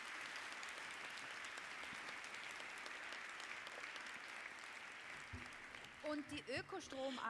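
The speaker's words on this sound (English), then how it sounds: "they deserve a big round of applause for that." Audience applause at the EARTHtalks 2017 event, a steady crowd of clapping filling the room for several seconds, then fading as a speaker's voice returns at the end.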